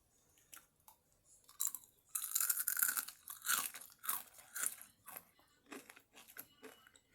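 Crunchy ramen snack, sugar-coated dried noodle crackers, being bitten and chewed up close in a series of sharp, crisp crunches that grow dense through the middle, with quiet pauses between bites.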